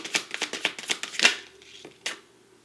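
Tarot cards riffle and snap in a quick run of about eight crisp shuffles, close and fairly quiet, then a lone flick or draw a moment later; no talk.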